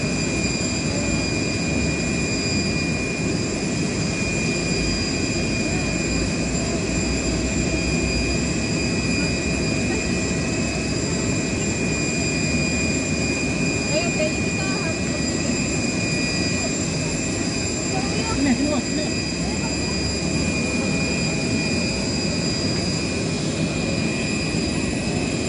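An airplane's jet engines run after landing in Lampung, a steady, loud roar with a high whine that continues without a break for the whole stretch.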